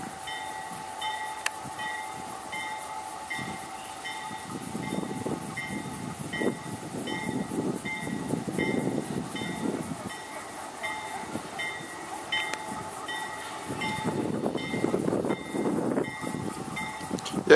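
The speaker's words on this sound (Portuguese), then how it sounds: "Esse é o procedimento de engate do Helper no trem carregado." A helper locomotive couples to the tail of a loaded freight train at Canguera, with low rumbling engine noise, clanks and a steady high tone, rising and falling in intensity over a long stretch.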